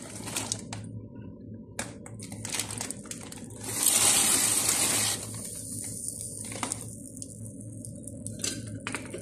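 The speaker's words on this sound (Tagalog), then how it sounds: "Lagay natin ang macaroni." Dry macaroni is poured into a pot of hot water, making a brief crunchy rattling rush of about a second that stands out over a quiet background with scattered small clicks.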